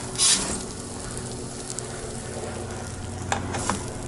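Steady, loud sizzling of ribeye steak frying in a hot pan, a continuous crackling hiss with a few sharper pops and no talking.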